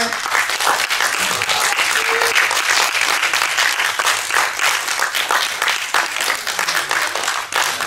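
Audience at a manga festival drawing contest giving sustained, loud, dense applause, close and continuous for several seconds with a faint murmur of crowd beneath.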